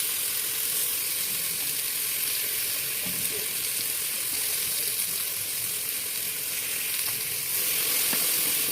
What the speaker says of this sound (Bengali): এটা দিতে জল দিয়ে মশলাটাকে একটু নেড়ে নিয়ে এর সাথে মিশিয়ে দেবো